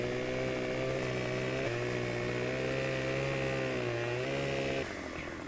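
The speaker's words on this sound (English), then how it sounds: "Use this chainsaw." Steady, loud virtual chainsaw drone in Farming Simulator 15, with pitch steps as the throttle changes before it drops off at the end; no voices.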